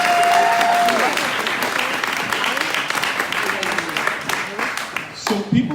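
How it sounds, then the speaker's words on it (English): A large crowd at a campaign kick-off breaks into a round of applause, a loud continuous clatter of many hands with cheering and voices mixed in, thinning slightly toward the end. "Give yourself a round of applause."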